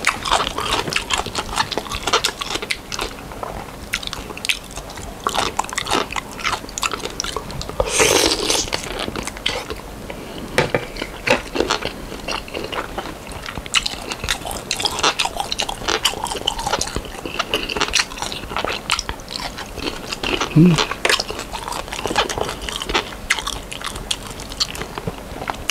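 Loud close-up crunching and biting of pickled tiger shrimp with garlic, the shrimp washed fresh and split down the back, goes on steadily with wet chewing and no talking.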